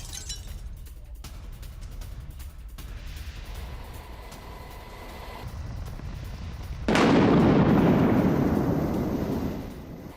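A sudden loud explosive blast from a boat being destroyed in a US military strike in the Pacific, shown in news footage. It erupts abruptly out of a quieter background, then a sustained roar of fire and debris holds for several seconds before fading.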